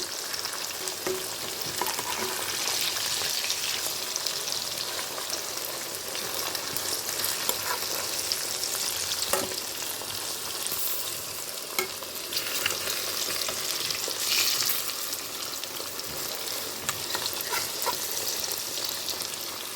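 Mixed vegetable rice is gently turned in a pan, a dense continuous frying sizzle with occasional soft stirring scrapes, close and steady throughout, with no talking.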